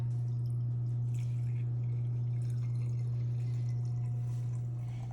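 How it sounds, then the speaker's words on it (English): Cold brew coffee is poured from one mason jar into another through a fine-mesh produce bag, giving a steady, close liquid trickle and drip over a strong low hum, with no talking. "So just pour it into another mason jar, pouring it right through your Lotus produce bag."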